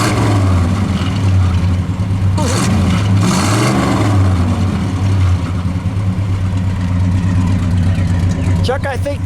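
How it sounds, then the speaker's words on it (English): A 1964 Studebaker Hawk Gran Turismo GT with the supercharged R2 V8 and four-speed idles loudly with a low, steady burble, then rises briefly in a rev before settling, heard up close with some background noise. "Chuck, go ahead, give it a rev."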